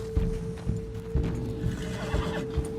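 Horse galloping and neighing in Red Dead Redemption 2, with steady clip-clop hoofbeats and a whinny heard close and loud over a constant tonal drone, with no talking.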